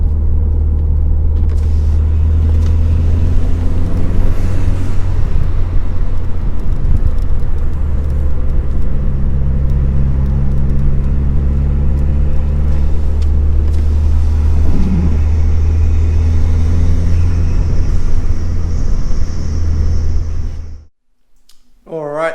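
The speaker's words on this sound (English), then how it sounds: "This is a good medium in between getting a bit of intake noise and not sounding like a knob." Ford Fiesta ST Mk7 fitted with an ITG intake, driven at speed: a loud, steady engine and road rumble with faint intake tones that carries on evenly before suddenly cutting away near the end.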